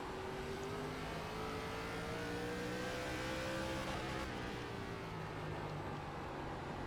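ARCA stock car engine racing around Thompson Speedway in the iRacing sim, a steady mid-pitched drone that rises and falls slightly with throttle, continuous and fairly quiet throughout with no voices.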